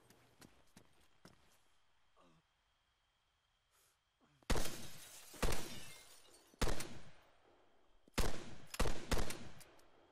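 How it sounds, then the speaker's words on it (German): Gunfire in the video game Arma 3: loud, sharp shots arrive in several short bursts after a quiet stretch with faint clicks, the reports close and punchy. "Ich hab zweimal geschossen."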